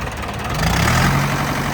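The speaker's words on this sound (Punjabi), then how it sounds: "ਟਰੈਕਟਰ ਦੀ ਸਲਫ ਲੋ ਜੀ ਆਵਾਜ਼ ਸੁਣੋ ਟਰੈਕਟਰ ਦੀ" A Mahindra 475 tractor engine runs at a steady idle just after starting, with a low, even diesel rumble that holds close and fairly loud throughout, swelling slightly partway through.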